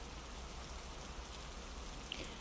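Steady, even rain hisses softly and continuously throughout as a subliminal background bed, with one faint drip near the end.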